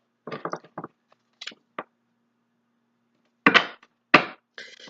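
Several short papery riffles and taps of cards being shuffled for a card reading in brief bursts, then two louder riffling sweeps near the end, close by with no talking.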